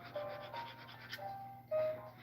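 A finer-toothed file works metal on a silversmith's bench, producing short repeated rasping strokes at close range, moderately loud with a faint steady hum beneath.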